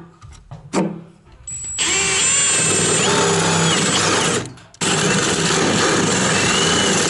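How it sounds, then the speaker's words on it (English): A power drill bores holes for a house electrical service hookup, spinning up loud and steady for several seconds, briefly stopping, then running again at full speed, close up after a few clicks and knocks. "So I'm gonna drill our own holes here."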